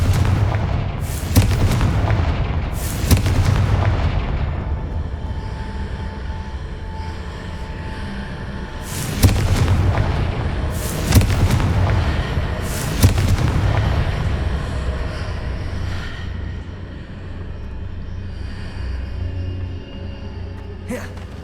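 Confringo fire spells in the Hogwarts Legacy video game burst in loud, sharp blasts, about five of them spaced irregularly, each followed by a rumbling, crackling decay over a low background of game ambience.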